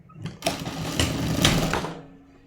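A sewing machine stitches a trouser hem in a short close burst, starting with a few clicks, whirring briefly and then winding down.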